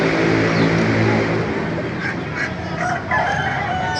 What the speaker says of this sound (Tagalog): para makita niyo mga manok dito mga kamaster